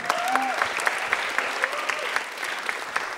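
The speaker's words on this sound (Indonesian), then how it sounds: "Tepuk tangan sekali lagi untuk Bos Sidik semuanya." Steady applause from a stand-up comedy audience, even and continuous, with a few louder claps popping out and a faint voice briefly underneath.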